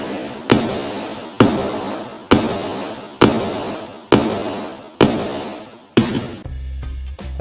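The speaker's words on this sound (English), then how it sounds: "So I decide I better use a hammer." A hammer strikes a tool through a leather belt on a wooden workbench, six or seven sharp, loud blows about one second apart, each ringing briefly before the next.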